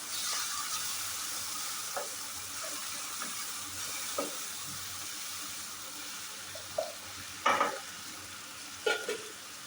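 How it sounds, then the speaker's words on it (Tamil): Tomatoes sautéing in a pan after ginger and garlic while cooking chicken pasta: a continuous close sizzle with occasional sharp spatula scrapes and stirring clinks, no talking. "நல்லா வதக்கிக்கலாம் தக்காளியை"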